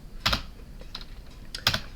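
Keys on a computer keyboard clatter in a few brief, separated bursts, two louder clusters bracketing a softer one, close up with no voices.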